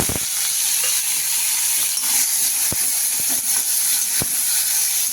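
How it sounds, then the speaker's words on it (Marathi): Tomatoes hitting hot oil on a lowered gas flame for a green tomato and green chili chutney, giving a loud, steady broadband sizzle with a few sharp pops and crackles, no talking. "आता आपलं तेल तापलेलं आहे गॅस थोडा लहान करून घेऊ आणि टोमॅटो त्याच्यात टाकू"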